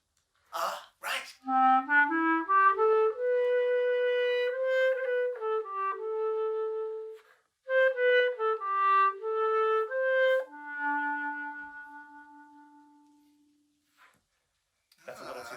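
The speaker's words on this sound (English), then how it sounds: "you'll also hear clarinet in jazz when it may sound a little bit like this" A solo clarinet plays a jazz tune in a smooth, close, moderately loud phrase, with a short pause midway and a held low note at the end.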